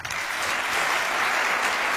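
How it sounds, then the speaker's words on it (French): A conference audience at an entrepreneurs' summit applauds warmly for partner companies, giving a dense, steady wash of clapping that lasts the whole moment without any voices over it. "Vous pouvez applaudir chaleureusement BNP"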